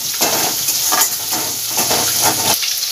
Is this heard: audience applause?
no